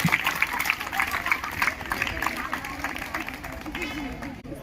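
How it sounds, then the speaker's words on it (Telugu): Audience applause at a Rotary Club dental and cancer awareness seminar, a dense run of clapping from a crowd with murmuring voices mixed in, moderately loud and fading slightly toward the end. "గట్టిగా క్లాప్స్."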